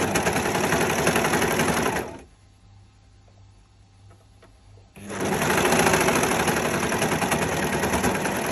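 An overlocker sewing machine stitches a small cuff in loud, fast, buzzing runs, stopping for about three seconds in the middle before starting up again at full speed.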